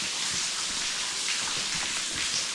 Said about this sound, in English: Almost sounds like I hear another waterfall down here.